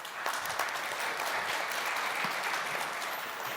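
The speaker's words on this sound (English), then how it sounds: "So a round of applause," An event audience applauds steadily at the close of a panel session on small cell Open RAN technology, a dense, even wash of many hands clapping that holds at moderate loudness throughout without voices.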